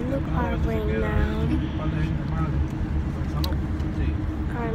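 Steady low rumble of a car interior while driving, with a voice talking over the engine and road noise throughout.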